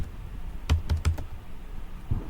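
A few quick keystrokes on a computer keyboard enter an amount in accounting software: a short burst of four crisp clicks close by, then quiet, then one more soft tap, with no talking.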